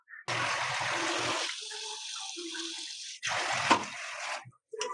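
Millet grains being washed under running water from a kitchen tap, with two bursts of gushing flow and splashing in a sink separated by quieter trickling and handling sounds.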